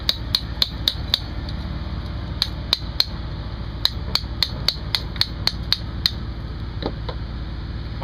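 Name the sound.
chisel struck to take away material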